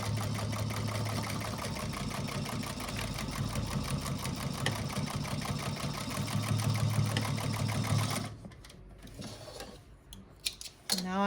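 A sewing machine back stitches a pleat on silk panels, a loud, rapid steady whirring hum for several seconds, then stops, leaving faint handling noises and a couple of clicks.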